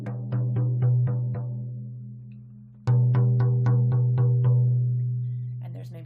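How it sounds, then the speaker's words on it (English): A slow shamanic journey drum beats in steady, resonant strokes, one run of about six beats, a short pause, then another run, each stroke left to ring and fade; close and alone. "that's the drum beat that accompanies the shamanic journey"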